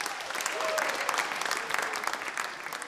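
An audience at a Georgian league quarterfinal stage show claps steadily, a dense, continuous wash of applause heard from a moderate distance.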